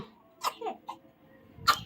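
A few short, close coughs, spaced apart in an otherwise quiet room, the last one slightly louder.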